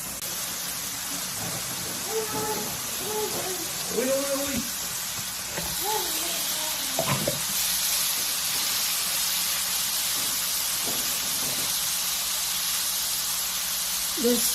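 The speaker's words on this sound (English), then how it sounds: "I'm going to go ahead and put the beef in here and cook them side by side as if we were on the Blackstone" Seasoned fajita beef sizzling in an electric skillet beside chicken, a steady, soft hiss running the whole way, with talking over its first half.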